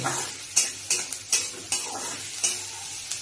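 Onions frying until brown in a pan, a close sizzle punctuated by repeated loud spatula scrapes and clanks about every half second.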